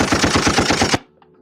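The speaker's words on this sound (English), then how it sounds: "gunshots, baby." A machine gun fires a rapid burst of about a dozen loud, evenly spaced shots in an urban setting, then stops abruptly, leaving faint tonal background sound.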